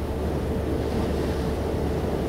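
Sea waves break steadily on a shoreline, a continuous close roar of surf with wind noise, and no talking or other sounds.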